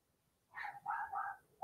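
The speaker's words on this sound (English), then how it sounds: "She barks over everything." A pet dog lets out a short burst of two or three close yelping barks, fairly loud over a quiet room.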